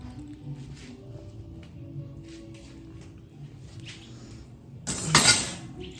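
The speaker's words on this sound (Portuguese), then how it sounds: "vamos tirar essa grade daqui" Low steady crackling rumble of embers, then near the end a sudden bright metallic scrape and clank as a metal grill grate is lifted off the embers.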